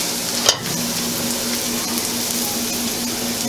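Shrimp seasoned only with salt and pepper fry in a pan with a loud, steady sizzle, a brief clatter near the start as something is moved or stirred.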